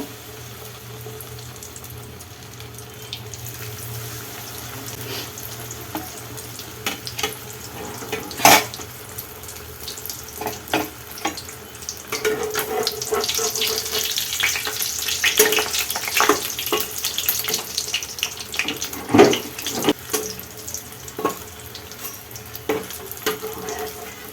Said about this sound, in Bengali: তেল গরম হয়ে গেছে এবারে আমি বানিয়ে রাখা আমলেটগুলো এক এক করে ফ্রাই করে নেবো